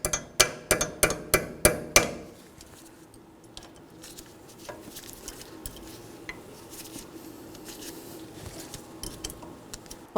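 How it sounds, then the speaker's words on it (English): A hammer peens over a locking cotter pin on a 2013-2019 Nissan Sentra front steering knuckle, giving a quick run of about seven sharp metallic strikes in the first two seconds, followed by quieter light clinks and shop rattles. "Make sure you peen it over."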